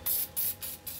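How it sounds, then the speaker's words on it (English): Four quick, soft hissing bursts of WD-40 aerosol are sprayed onto a drill bit during silver work, each puff lasting a fraction of a second with brief gaps between. "You can keep spraying it down with some WD-40 to keep that work edge in check."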